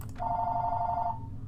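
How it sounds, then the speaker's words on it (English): A telephone rings once indoors, a single steady electronic tone held for about a second over a low background hum, with no talking. "Forgot to unplug the phone."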